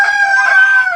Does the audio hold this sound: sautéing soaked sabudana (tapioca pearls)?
no